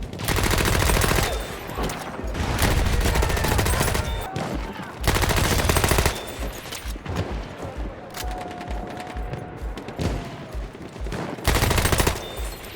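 Annihilator submachine gun, the early Thompson or Tommy gun, firing in Battlefield 1: rapid automatic bursts, loud and close, in several long strings separated by brief pauses, with scattered distant gunfire and clatter between them.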